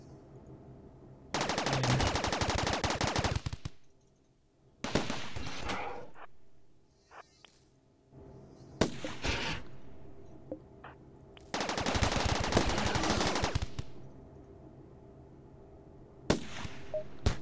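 Automated turrets in the video game RimWorld fire long bursts of rapid gunfire, each burst lasting a couple of seconds, separated by scattered single shots and quieter gaps.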